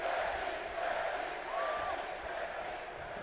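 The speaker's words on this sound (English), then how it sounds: "Crowd here tonight all behind Becky Lynch." Steady arena crowd noise from the WWE 2K22 wrestling game, a dense continuous roar of cheering fans backing Becky Lynch ahead of a triple threat match, with no talk over it.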